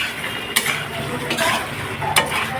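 Curry of potato and lentil cakes simmering in a pan with dried chili powder, stirred with a utensil: continuous close sizzling and bubbling with a few sharp scrapes and clinks of metal against the pan.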